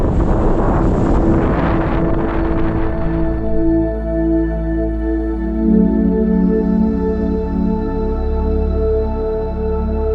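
Heavy wind buffeting a microphone outdoors, a loud continuous roar with low rumbling gusts that ease slightly after the first few seconds, no voices.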